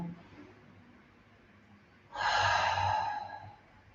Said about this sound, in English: Breathing deeply there, inhale, exhale.